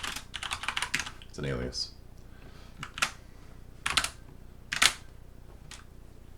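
Bursts of close computer keyboard typing, a rapid run of keystrokes followed by scattered clicks and short clusters, with a person speaking briefly.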